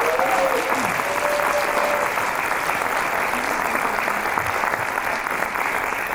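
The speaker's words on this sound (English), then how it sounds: "I think we need to give a round of applause to both of our teams." Sustained audience applause for two debate teams at the close of a formal debate event, a dense steady clatter of many hands, close and loud, lasting throughout with no voices.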